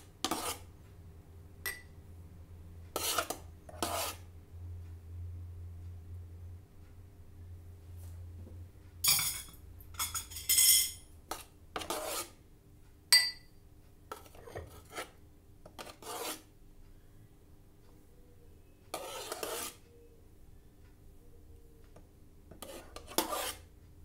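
Quiet kitchen scraping and soft clinks as strawberry mousse made in a Thermomix TM5 is spooned into small cups, with scattered brief spoon-on-dish taps and rubs over a low background hum.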